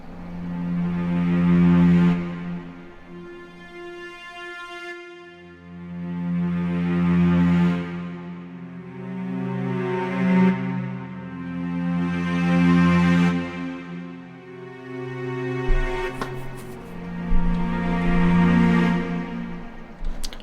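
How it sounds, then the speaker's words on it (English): A cello-like synth voice in the intro of an electronic track plays slow, swelling sustained notes in repeating phrases, each rising and fading, with a brighter burst of added texture near the end. "I did add this one, which is like a cello, which really adds a lot of interest to the intro."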